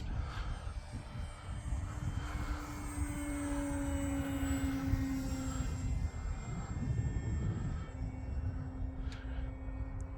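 A small E-flite Extra 300 model airplane engine drones steadily overhead while flying inverted, its whining pitch rising and falling as it passes at moderate distance.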